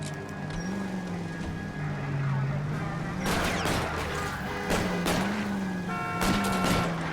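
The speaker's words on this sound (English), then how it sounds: "Oh, they're all shooting." Enemy gunfire in the L.A. Noire video game crackles in sharp bursts of shots, loud and close, over a droning car engine, with voices talking in between.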